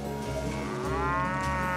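Cattle on a high pasture in the Azores give a drawn-out, loud moo that rises and bends in pitch, with a steady outdoor wash of noise beneath it.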